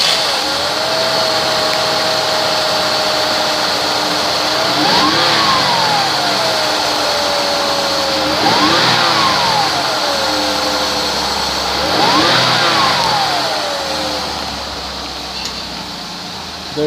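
A 2004 Ford Escape with about 153,675 miles runs steadily at idle, then revs up three times at even intervals, each rise climbing and falling back smoothly, the engine close and loud throughout.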